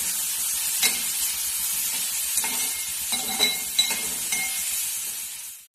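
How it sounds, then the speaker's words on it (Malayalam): Onions sautéing in coconut oil for potato bonda, a steady close sizzle with a few scraping stirs of the pan and light clinks, alone without talk until it cuts off at the end. "അതുകൊണ്ടാണ് നമ്മൾ വെളിച്ചെണ്ണയിൽ ഒന്ന് വഴറ്റിയെടുക്കുന്നത്."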